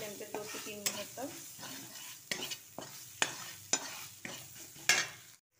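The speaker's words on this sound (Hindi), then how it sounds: "अब इसको क्या करेंगे गैस, इसको फ्राई कर लेंगे हम मीडियम फ्लेम पे 2 से 3 मिनट तक" Onion, ginger, garlic and spices fry in a pan over a medium flame, with a steady soft sizzle broken by about half a dozen sharp scrapes and clinks of a spoon stirring against the pan.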